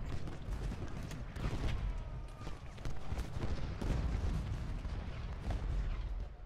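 Cannon fire from Union artillery batteries in the Civil War strategy game Ultimate General: Gettysburg, with dull booms that go off unevenly rather than in one volley over a steady rumbling battle bed.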